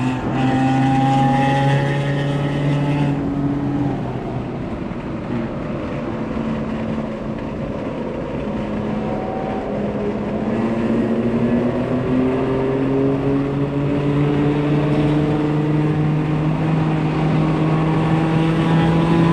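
A B9 Audi S5 drives hard around Barber race track, its engine droning loud and close with rising tones as it accelerates through the gears, a shift break near the start, and no talking.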